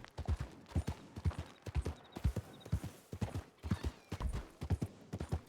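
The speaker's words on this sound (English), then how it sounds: "Clip clop, clip clop." Horse hooves clip-clop in Red Dead Redemption 2, an even, close, rhythmic beat held throughout with faint high chimes and no talking.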